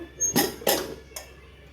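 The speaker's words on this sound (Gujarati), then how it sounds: "કુકર ઢાંકણ ખોલી લઈએ." Opening a pressure cooker lid after a batch of valor papdi curry gives three quick metallic clinks and bursts of released air, fairly close and clear.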